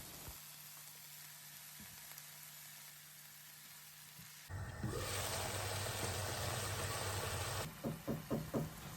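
Four small onions with salt sautéing in a pan for chicken biriyani: a quiet low background at first, then a loud, steady sizzle that bursts in halfway and holds, ending in a few sharp knocks or stirs.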